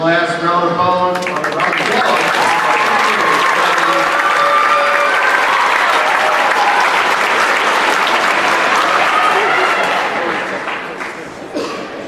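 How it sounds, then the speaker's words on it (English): Sustained applause from a large audience at an awards ceremony, steady and loud for most of the stretch, then tapering off toward the end. "One last round of applause."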